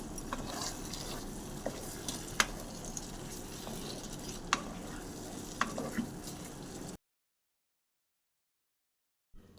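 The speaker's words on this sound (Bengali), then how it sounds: "কাজু বাদামের পেস্টটা আলুর দমে দিয়ে দিলাম, দিয়ে ভালো করে একটু নাড়াচাড়া করে নিতে হবে" Cashew paste stirred into Kashmiri potato curry (alur dom) in a pan, a faint steady simmering hiss with occasional light utensil clicks, ending in silence.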